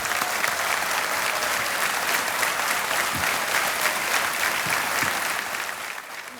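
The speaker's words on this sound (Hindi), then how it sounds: "तालियां बजती रहें इनके लिए" Steady, dense applause from a television quiz-show studio audience on the Kaun Banega Crorepati set, loud and close throughout before tapering slightly at the very end.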